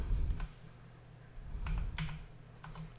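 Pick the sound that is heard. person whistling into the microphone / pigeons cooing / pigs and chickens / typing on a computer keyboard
typing on a computer keyboard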